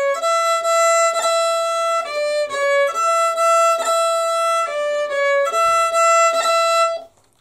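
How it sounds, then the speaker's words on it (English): Violin playing a Manx fiddle tune with cuts, quick ornaments made by striking the string with the third finger, giving sustained bowed notes broken by brief flicks and rhythmic note changes, close and loud, played alone before stopping. "Cuts on the violin are where we just hit the string with our third finger."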